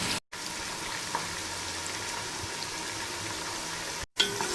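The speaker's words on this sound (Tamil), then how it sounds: "வெங்காயம் நல்லா வதங்கணும்" Onions sauté in a pan for fish biryani, a soft, steady hiss and bubble heard close and quiet, broken by two short gaps.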